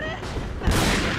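A sharp burst of gunfire erupts in Resident Evil 4, loud and close, landing partway through amid ongoing game sounds.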